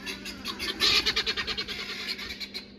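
Spring birds on a flower farm squawk in a quick run of rhythmic, harsh calls, close and moderately loud over a steady low hum.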